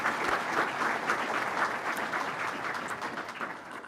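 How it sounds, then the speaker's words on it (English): A commencement audience at Central Lakes College's Staples campus gives a round of applause, a continuous rush of many hands clapping at moderate loudness. "Let's give them a round of applause."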